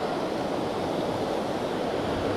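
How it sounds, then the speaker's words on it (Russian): Tolminka river rushing through its canyon below, a dense continuous roar of flowing water, steady and fairly loud with no voices. "Снизу протекает речка Толминка,"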